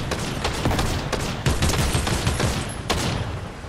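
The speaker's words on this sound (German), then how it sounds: "Ah, die schießt auf mich. Explosionsgewehr." Explosive rifle fire in a Fortnite match, a string of loud cracking shots in irregular bursts with short gaps, close and punchy, without voices.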